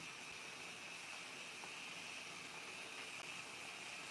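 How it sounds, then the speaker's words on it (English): A hair steamer gives off a steady, even hiss of steam while it steams hair, running unbroken at a constant level with no talk. "I am steaming my hair before I shampoo"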